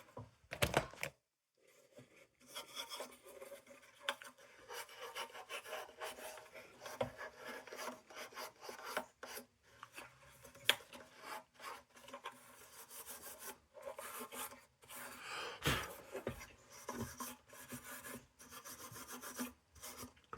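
Old Wards Better lantern (Embury Pilot) being lightly cleaned and rubbed, close scratchy rasping strokes in irregular bursts with short pauses, no talking.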